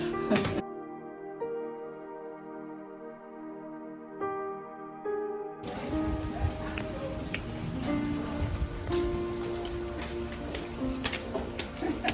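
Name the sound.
steady rain falling on a mountain hike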